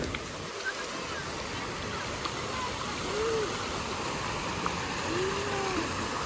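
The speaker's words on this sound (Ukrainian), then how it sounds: "Працюючі фонтани це зараз рідкість." A working water fountain splashes in a constant, steady wash of falling water, moderately close and without any talking.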